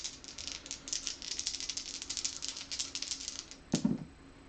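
Small dice rattle and clatter across a hard table in a rapid patter, ending with one sharper knock as they come to rest.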